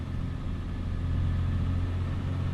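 A modded truck engine in American Truck Simulator rumbles at a steady idle, deep and continuous with no change in pitch and no voices over it.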